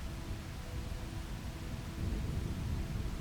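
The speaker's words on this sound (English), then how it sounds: "A deep, heavy rain began to fall." Heavy rain pours steadily in the racing game Racing Lagoon, a dense, loud, continuous wash with a low rumble of thunder that swells slightly louder toward the end, with no voices.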